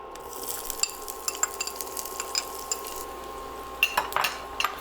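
Thinly sliced shallots and curry leaves fry in a pan with mustard seeds, a steady close sizzle broken by stirring clinks and spatula scrapes, with a few sharper bursts near the end.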